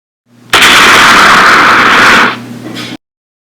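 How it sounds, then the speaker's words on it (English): A supernova explosion sound effect: a loud, sudden burst of broad roaring noise that holds for about two seconds, then drops to a fainter rumble before cutting out. "the explosion of a star"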